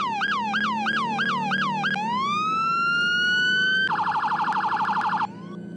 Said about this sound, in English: I'll mute my mic for the sirens.